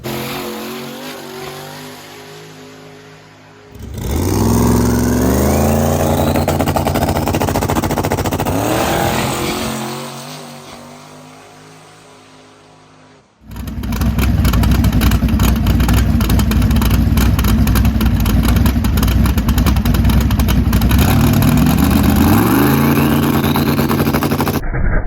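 A drag race car makes runs at Pacemakers Outlaw Motorsports Park. Its engine roars loudly up through rising revs in a long burst, drops away, then blasts again in a second sustained full-throttle pull.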